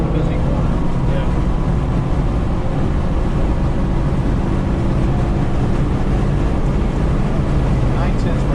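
A car engine held at full throttle on a race track gives a loud, steady, continuous roar with no break from start to finish.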